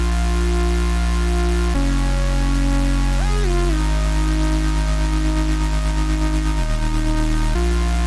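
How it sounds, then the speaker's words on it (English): A thick, buzzing gated saw synth plays sustained notes with a choppy, crunched texture, shifting pitch a few times, loud and constant throughout. "if I put it with the gate, you can hear that it starts to get like crunched up"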